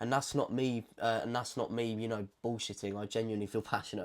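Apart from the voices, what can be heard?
No distinct noise like a dog, phone or traffic.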